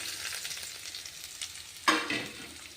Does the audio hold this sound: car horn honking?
no